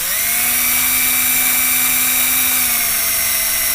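A power tool trims the outside of 24 gauge shot shells for a .577 Snider, a steady close whine that rises at the start and holds level for several seconds without talk.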